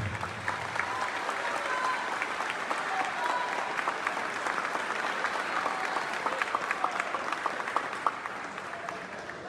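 Audience members applauding themselves at a gathering, sustained crowd clapping that stays even and fairly distant for the whole stretch, with faint voices under it.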